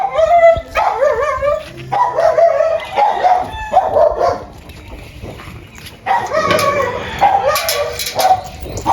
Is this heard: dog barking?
yes